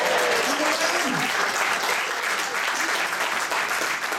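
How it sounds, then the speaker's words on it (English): Wedding guests break into loud, sustained applause during a best man's speech, dense clapping from a crowd filling the room, fading slightly toward the end. "Let's give him a round of applause"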